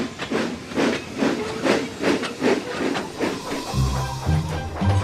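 A cartoon steam locomotive puffs rhythmically, with around nine evenly spaced chuffs of hissing steam, fairly close and steady, before a low tonal hum comes in over the last second.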